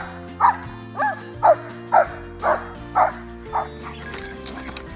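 Search and rescue dogs bark during off-leash air-scent wilderness training with King County search dogs, giving about eight evenly spaced barks a second apart, moderately close, before the barking fades into softer yips and background noise.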